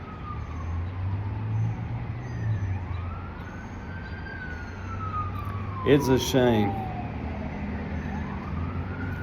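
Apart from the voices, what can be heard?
emergency vehicle sirens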